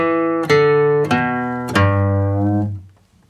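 Three plucked guitar notes step downward in a slow country walking bass line, each ringing out and sustaining before fading away.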